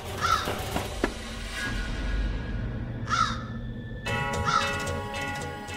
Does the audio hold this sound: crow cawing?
yes